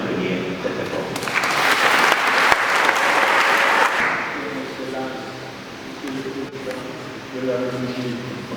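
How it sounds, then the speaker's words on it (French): A funeral gathering for a priest bursts into applause, a loud dense wash of clapping that swells and then thins out, with voices and some murmuring and speech emerging underneath as it fades. "que je vous demanderai d'applaudir très très fort"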